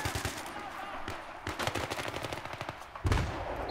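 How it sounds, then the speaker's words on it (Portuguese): Rapid automatic gunfire from the video game Battlefield 3 fills the clip with dense, continuous crackling bursts and a heavier blast near the end, loud and unbroken throughout. "eu não tô vendo onde que tá vindo esse tiro"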